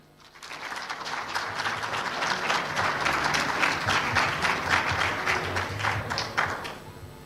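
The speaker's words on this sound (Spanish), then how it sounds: "Ahora vamos a presentar, por favor, con un fuerte aplauso a la Red de Inteligencia Colaborativa, Laura" Audience applause for speakers being introduced at a presentation event: a dense, steady wash of many hands clapping that swells quickly and holds loud and close for several seconds without talk.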